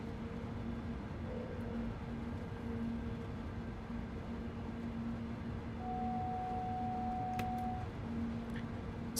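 A TGV high-speed train in a rail simulator game runs steadily, a continuous low rumble with a steady tonal hum, joined midway by a sustained higher whine and a few faint ticks.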